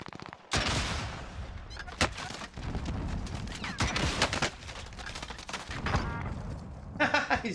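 Video game gunfire crackles in dense bursts and volleys through a firefight, with sharp repeated shots over a continuous battle din and occasional bright high-pitched effects toward the end.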